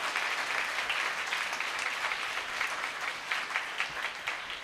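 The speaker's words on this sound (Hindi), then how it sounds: "जोरदार तालियों में आप सबको दाद दी जाती है" Enthusiastic applause from a church congregation during an annual coronation ceremony of Mother Mary at a Catholic church, a continuous wash of clapping throughout, fairly even and moderately distant.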